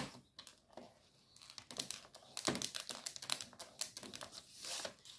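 Paper is folded by hand to make a simple greeting card, giving soft, close crinkling and rustling with a few sharper creases and crackles, faint overall.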